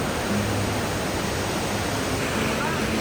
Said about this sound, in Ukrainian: Прийшли на цей водоспад, не знаю, чи мене чути.